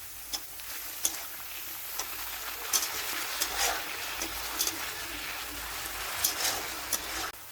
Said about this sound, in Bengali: তেল গরম হয়ে গেছে, এখন আমি হলুদ লবণ দিয়ে মাছটা মেখে রেখেছি এখন দিয়ে দেব, একটু ভেজে নেব